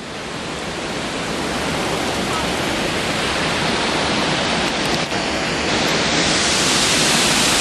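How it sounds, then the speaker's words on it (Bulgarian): Several large waterfalls seen on a hike pour as a loud, steady roar of rushing water that fills the whole clip and continues unbroken from start to finish, without any voices. "Ето няколко водопада. Наистина вече станаха много големи и са наистина много красиви."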